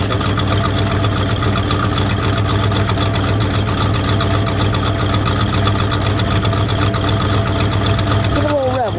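A 1968 AMC AMX V8 idles steadily on a cold 40-degree day, a loud, even, deep burbling rumble that holds throughout, with a faint voice briefly near the end.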